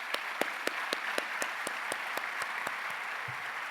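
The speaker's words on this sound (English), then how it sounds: "So let's give them a round of applause." A meeting audience applauds steadily, with sharp individual claps standing out above a dense, moderately distant wash of clapping throughout.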